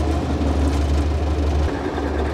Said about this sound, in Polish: pod wpływem napędu od ciągnika wał, na którym zamontowane są młoteczki, się obkręca